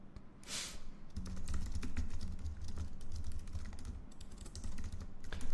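Typing a LinkedIn post on a computer keyboard makes a steady, close clatter of key clicks. It runs almost unbroken after a brief pause near the start.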